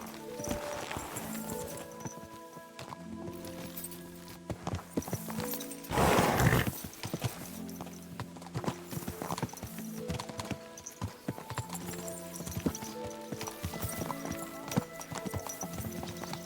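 A horse clip-clops along at a steady riding pace in Kingdom Come Deliverance II, rhythmic hoofbeats over game music with a loud whinny midway; no talking.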